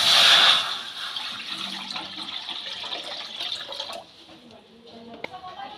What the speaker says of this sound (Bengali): फुलकपिटा प्रथमे आमी एकटू सिद्ध करे नेब, ताई जन्य कड़ाईते आमी जल दिए दिलाम।